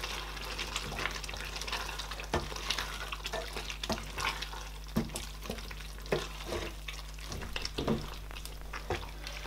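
A spoon stirs egusi pepper soup with vegetables in a pot, producing soft wet scraping and occasional knocks against the pot over a low, steady simmering background.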